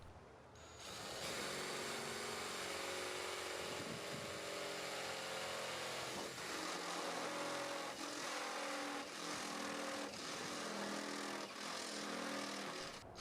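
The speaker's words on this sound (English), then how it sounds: "let's grab a stepper bit, and I want to drill the 4 9/16 holes" A step drill bit bores 4 9/16-inch holes in a Nissan Altima (2013-2015) trunk lid for an OEM spoiler, a steady close whine broken by repeated short bursts and pauses as each hole is cut.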